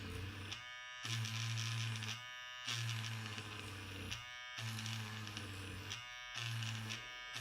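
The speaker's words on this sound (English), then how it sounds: "turn your eraser on and just drag it while it's on across the sandpaper" A Derwent battery-powered electric eraser whirs as it is dragged across sandpaper to shape its tip, a close buzzing motor running in about five repeated second-long strokes with brief dips between them.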